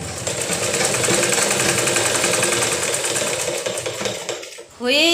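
A sewing machine stitching cloth runs in a fast steady mechanical rattle, loud and close, slowing and stopping near the end as a voice begins.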